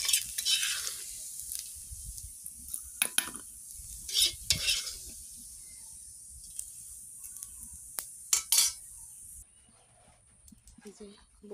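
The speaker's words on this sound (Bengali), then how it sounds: "এই যে বড়িটা ভেজে নেব" Dried lentil dumplings (bori) fry in hot oil, a crackling sizzle that fades after a few seconds, with loud spoon-and-pan scrapes and nearby talking.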